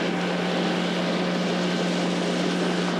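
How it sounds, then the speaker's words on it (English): Loud, steady drone of a propeller plane with a constant low hum, sustained throughout, no talking. "there's a plane that comes off the shoreline there"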